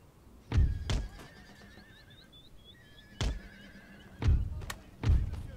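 Cavalry horses in the Napoleon Total War video game let out several sharp whinnies and neighs, with dull thuds punctuating the calls at irregular intervals over a quiet background.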